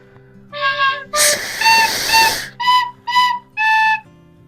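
A small whistle bead on the end of a knife lanyard, blown with air cupped through the hands, gives five clear tonal toots of varying length, close and loud, with a burst of breathy rushing air in the middle.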